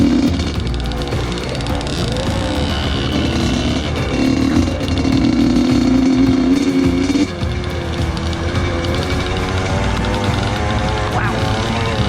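A dirt bike engine on an overgrown, poorly maintained motocross track, droning and revving close by, rising and falling in pitch throughout with a brief dip midway.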